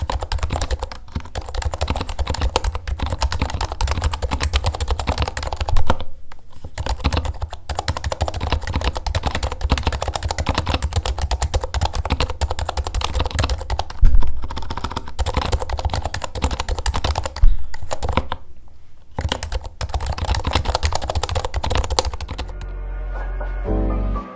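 Steady, rapid typing on a $350 computer keyboard, a dense run of close, crisp key clacks lasting throughout with only a few brief pauses and no talking.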